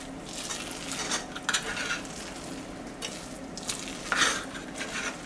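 A spoon scrapes and stirs laddu mixture with rose water in a pan, in repeated rough strokes with soft clinks against the metal, close and fairly quiet, with no voices.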